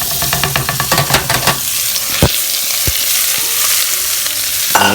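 Carrots and onions dropped into smoking bacon fat in a pan: a loud, close burst of sizzling and clattering stirs that settles into a steady hiss with a few sharp clicks.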